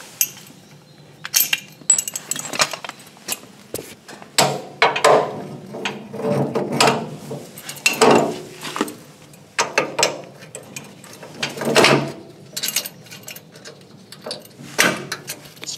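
A snow plow stand jack is cranked down by hand, giving irregular ratcheting clicks, scrapes and metallic clinks in short bursts with pauses between, close and moderately loud.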